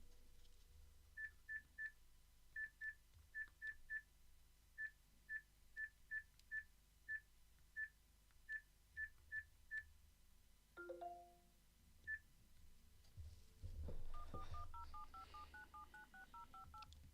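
Quiet touch-tone beeps in a quick dialing sequence, then a short pause and a repeating electronic ring tone over faint background hum.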